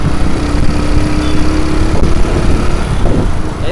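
Honda C70 motorcycle built in 1977 ridden along a badly damaged road, giving a loud, steady engine drone with wind buffeting throughout and no talk.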